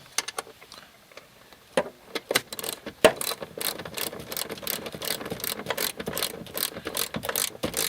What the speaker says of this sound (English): And then you simply tighten up the bolt again while keeping the little notch right over that